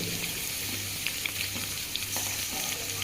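Chopped onions fry for Rayalaseema-style atukula upma, giving a dense, even sizzle close to the pan, with light clinks and scrapes of a spoon stirring now and then.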